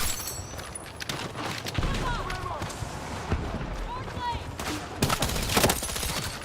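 Full-auto gunfire in Battlefield 6, with rapid bursts of shots and distant battle noise throughout, growing louder near the end, while a player talks over the action.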